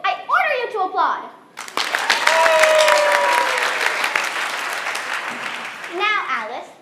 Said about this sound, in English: I order you to applaud.